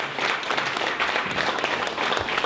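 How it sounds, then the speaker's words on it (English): Audience members at a B2B marketing meetup applaud a guest speaker, a continuous even patter of clapping at moderate volume with no voices over it. "Let's give Tim Busche one final round of applause."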